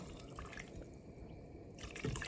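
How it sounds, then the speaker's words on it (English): Water poured from a tap into a cooking pot holding pig feet for Caribbean souse, a steady close-up splashing and trickling running throughout with a brighter burst near the end. "now you just add the water, and you need to add enough water to cover"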